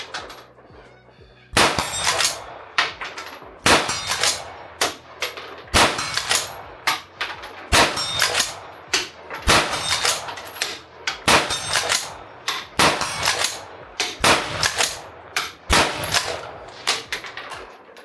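Single shots from a Wedgetail Industries MPR Mini .223 rifle at an outdoor farm range, each sharp crack paired with a ringing clang from steel targets, repeated roughly a dozen times at irregular intervals with quiet gaps between.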